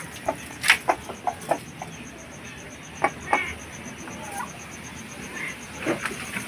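Native crossbreed hens cluck in short scattered bursts close by, some louder calls standing out over a quiet yard with a faint steady high whine in the background.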